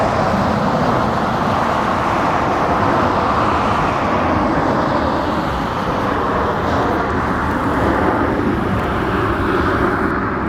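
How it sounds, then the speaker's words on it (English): An Alaska Horizon ERJ-175 jet departs with a steady, loud, broadband engine roar that holds for the whole stretch, heard from a distance without anyone talking. "Right now we have a departure, another Alaska Horizon"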